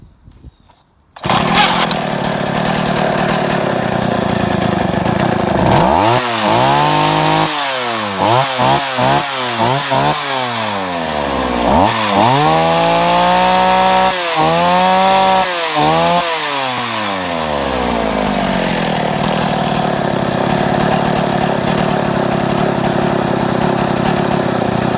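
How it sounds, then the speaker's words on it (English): A Husqvarna chainsaw with a freshly rebuilt carburetor runs loud and close for the whole stretch, starting after a brief quiet moment, then revving up and down repeatedly in sharp bursts before holding a high, steady whine. "Yeah, so it runs pretty good."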